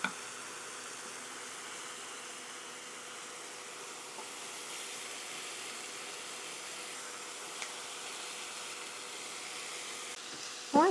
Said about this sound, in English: we're going to finish browning up the ground beef, break it up, cook down the onions until they're nice and soft